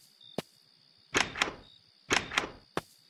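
Door sounds in a horror video game, a sharp knock followed by two pairs of heavy thuds and a final clunk, crisp and close against a quiet hum.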